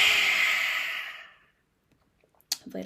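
A long, forceful breathy exhale with the tongue out, as in the breath of fire exercise, tapers off over about a second and a half, followed by a brief quiet and a voice starting to speak.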